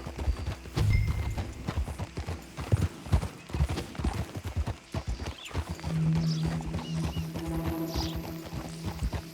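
Steady hooves of a horse in the video game Red Dead Redemption 2 clip-clop at a walking pace over a busy background, with a brief whinny and a low hum partway through.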